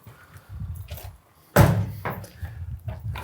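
A door being pulled open to break into a property lands one sharp, loud wooden thunk partway through, surrounded by softer bumps, rustling and low background rumble.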